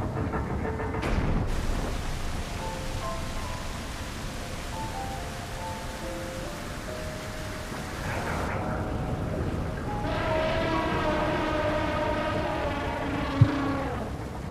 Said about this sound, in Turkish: O yüzden yağmur yağıyor işte